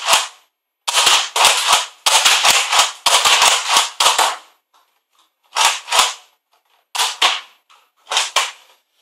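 Nerf Roughcut blaster fitted with a 3D printed ABS gear firing darts: sharp, close pops, first in quick clusters and then as spaced single shots, each followed by silence.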